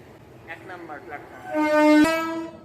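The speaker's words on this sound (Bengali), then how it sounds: "এই যে ট্রেন এখন আসছে" The Ganadevata Express rolls into a station and sounds a loud, sustained horn blast that swells and fades, with a brief voice heard just before.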